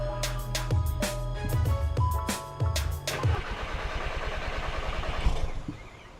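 A VW MK7 Golf R running on E85 fuel cranks with several rhythmic starter pulses, then catches and settles into a rough idle, heard close and loud without talking.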